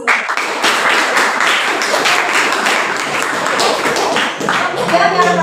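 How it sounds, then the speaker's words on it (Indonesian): A class of children at a school Isra Mi'raj commemoration breaks into applause, a burst of dense, close clapping that carries on steadily for several seconds, with voices mixed in. "Tepuk tangan untuk kalian semua"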